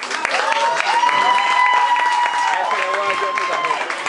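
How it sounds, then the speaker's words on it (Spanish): Audience applause for Hernán Fortuna at an acoustic show, a steady wash of clapping with voices and tonal calls rising over it throughout. "vamos a darle un gran aplauso a Hernán Fortuna."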